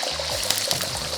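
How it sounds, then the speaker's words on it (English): Beaten egg poured into hot oil in a wok gives a continuous bright sizzle and crackle throughout, close and steady with no talking. "pour that egg straight into that hot oil"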